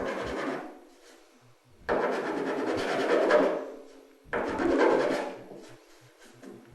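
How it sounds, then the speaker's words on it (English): Countersinking holes in a 1957 Chevrolet body panel, three close grinding, rasping passes of a few seconds each, every pass fading away before the next begins. "we'll kind of countersink them here, and we'll got a little bit of an edge yet"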